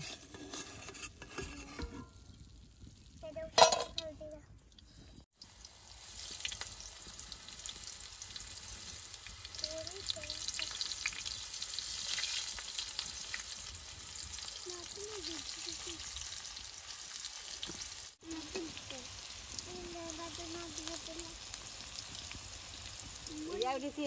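Banana peel chips crackle as they deep-fry in hot oil, a faint steady sizzle that runs under a soft voice for most of the stretch, with a few clatters near the start.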